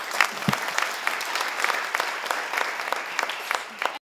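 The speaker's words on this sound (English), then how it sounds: "another round of applause for Steve and Michael for their leadership" Applause from the audience at a hybrid State of the City summit in Redmond, a steady wash of many hands clapping for about four seconds at moderate loudness, fading out at the end, with no talking.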